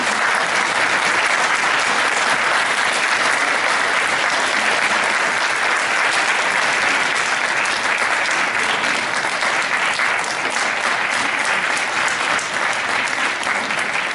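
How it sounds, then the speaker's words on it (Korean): Sustained, dense applause from an indoor crowd at a continuing-education workshop for academy instructors, welcoming guests as they walk in; steady and loud throughout with no pauses. "많은 박수 부탁드리겠습니다."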